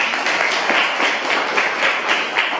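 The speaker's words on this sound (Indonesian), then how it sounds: "Untuk presentasinya kita berikan dulu tepuk tangan." A classroom claps for a student presentation, a steady, dense round of applause from many hands throughout.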